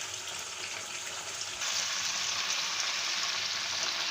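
Chicken and potato pieces fry in a pan with a steady, close hiss of sizzling oil that grows a little louder partway through, with no talking.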